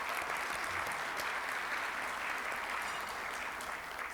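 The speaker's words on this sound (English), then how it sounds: "Let's give Nancy a round of applause" Steady applause from the audience at a Rotary club meeting, honoring a member named Nancy; dense, even clapping that holds at a constant level throughout with no voices over it.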